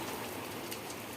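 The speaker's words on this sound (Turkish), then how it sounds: "Yağmur yağıyor dışarıda." Steady rain falls outside, a faint, even hiss of drops with no break, from a rooftop pigeon-keeping setting in Mardin.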